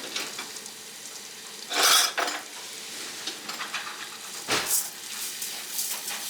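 Jasmine rice is stirred in a pan of sizzling butter and spices: a steady soft sizzle runs under a few louder scraping strokes of the spoon, heard up close with no voice.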